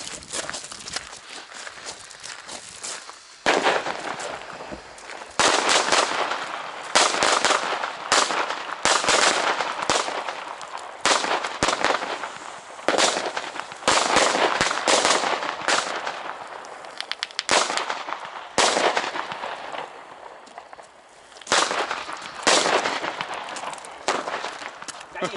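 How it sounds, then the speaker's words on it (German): Firecracker chain burning off on New Year's Eve 2018/2019, a long rapid crackle of sharp bangs in dense bursts with brief gaps, loud and close. "Nächste Knallkette. Oh, die brennt aber schnell ab."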